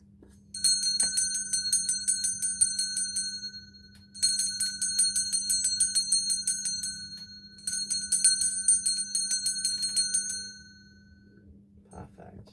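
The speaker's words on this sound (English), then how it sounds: "I'm going to ring one of these bells." A hand bell rings in three separate bursts of a few seconds each. Each burst is a bright, shimmering run of rapid strikes with a lingering ring, over a low steady hum, and a voice murmurs briefly near the end.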